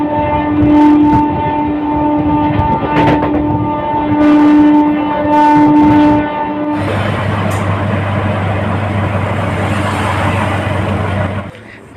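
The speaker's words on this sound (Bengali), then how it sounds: "ট্রেনটা ঢুকে গেছে, এখন উঠতে হবে।" A train pulls into a station: whining tones and clatter at first, then a steady low rumble and broad hiss as the carriages arrive, with some background voices.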